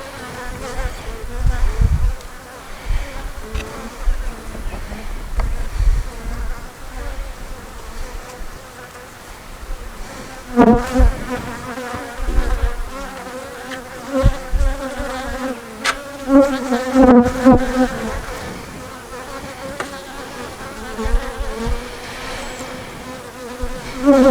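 Honey bees swarming around a hive frame, a dense, close buzzing hum that swells and fades continuously with occasional louder passes near the microphone.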